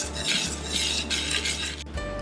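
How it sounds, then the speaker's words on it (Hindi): Sugar is whisked into a nankhatai batter, a busy rhythmic scraping and clinking of a whisk against a bowl under a low steady hum. "अब हम इसमें चीनी डालेंगे और इसे 1 मिनट फेंटेंगे।"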